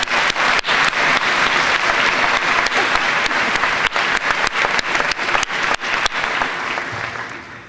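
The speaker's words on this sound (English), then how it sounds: "Can we give our trustees a round of applause," A graduation audience applauds the school trustees in loud, dense, sustained clapping that holds steady for several seconds, then tapers off near the end.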